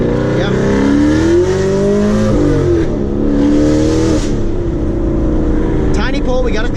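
Loud V8 engine of a modified, cammed Chevrolet Camaro SS 1LE revs hard and climbs through rising pitch, shifting gears with brief dips, roaring steadily close up for several seconds.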